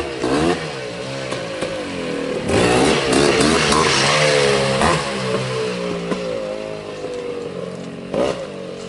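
A 1984 Honda ATC250R three-wheeler engine revs loud and close, rising and falling in pitch through repeated throttle blips with a steady mechanical rasp underneath, and no talking.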